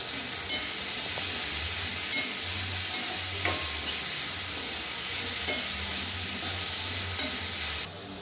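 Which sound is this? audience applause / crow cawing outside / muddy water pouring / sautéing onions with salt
sautéing onions with salt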